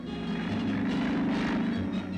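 Engines of WWII-era piston-engined RNZAF aircraft give a loud, continuous rumbling drone that stays steady and close throughout.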